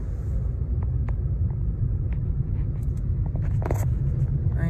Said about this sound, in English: I'm sitting in traffic on I-80 in Reno, Nevada